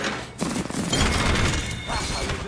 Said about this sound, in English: They're shooting the shit out of my fucking decoys.